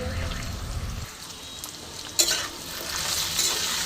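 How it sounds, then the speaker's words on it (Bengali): Potatoes and gathi kochu (taro) sizzling steadily in hot oil in a pan, with stirring scrapes and a sharp clatter partway through, fairly close and without talk. "এবার এটা আমি খুব ভালো করে ভাজবো, ভেজে ভেজেই রান্নাটা হবে।"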